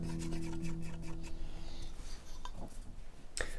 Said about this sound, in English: I'm almost holding the chisel like a pen, and I'm doing 3D drawing with it.